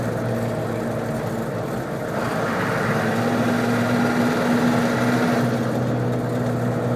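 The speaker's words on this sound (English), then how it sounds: "Then I accelerate again" A Hummer H1 fitted with a Humvee engine accelerates on the road, a steady loud engine drone whose pitch rises slightly midway, heard from inside with constant road rumble.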